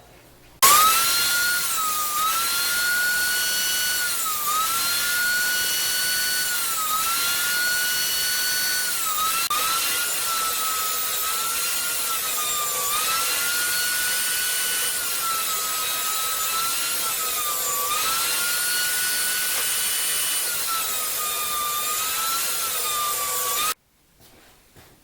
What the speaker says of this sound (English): And I'll just plane them literally 2 at a time